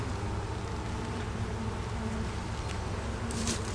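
Honeybees at an open hive during a colony check fill the air with a steady, dense buzz, close and continuous, unbroken by any voice.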